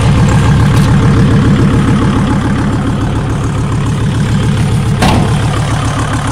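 Kubota L1-33 tractor's five-cylinder diesel engine idling, a loud, steady low rumble with an even rhythmic chug throughout and a brief click near the end.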